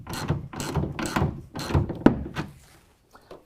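Ratchet tightening a tonneau cover rail clamp on a 2019 Ford Ranger: four or five rhythmic ratcheting strokes, close and clicky, ending with a solid thunk and then quiet.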